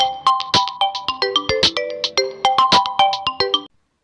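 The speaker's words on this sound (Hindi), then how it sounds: "तभी जिन का फ़ोन रिंग करता है।" A mobile phone ringtone plays a loud, bright electronic melody of rapid repeating notes for several seconds, close and clear, then cuts off abruptly.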